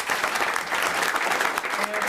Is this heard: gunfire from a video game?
no